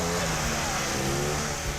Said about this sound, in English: just getting the engine running isn't enough to satisfy Mario.